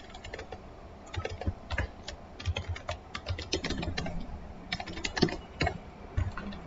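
Rapid irregular keystrokes on a computer keyboard, close and clear, clustered taps with short pauses between bursts throughout, no voices.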